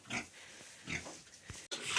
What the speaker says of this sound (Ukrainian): Дала свинкам їсти